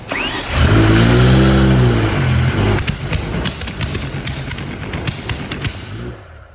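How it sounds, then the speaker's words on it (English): BMW M5 drift car engine running on bad gas, revving hard with a sweeping rise and fall, then settling into a rough idle punctuated by sharp backfire pops, loud and close. "Rev it a little more. Watch those. Rev it just a little bit."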